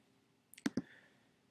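A computer mouse clicks twice in quick succession to start a screen recording on a Mac, sharp and close in a quiet room.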